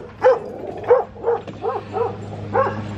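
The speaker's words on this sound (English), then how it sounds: "there's a lot of little traffic, so the dogs bark quite a bit" Small dogs bark in a quick series of six yips and barks along a small road, close and fairly loud over a steady low hum, with no talk.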